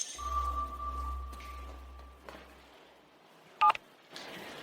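A telephone number is dialed, giving a short burst of push-button keypad tones after a steady tone fades. Faint room noise surrounds it, with no voices.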